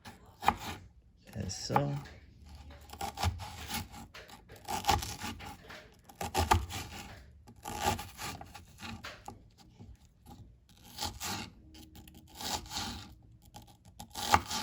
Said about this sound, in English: thinly slice the shallots lengthwise into thin strips